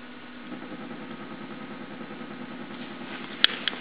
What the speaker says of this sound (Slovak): Keď frekvenciu trochu zvýšime, napríklad na 20 Hz, motor sa bude krútiť rýchlejšie.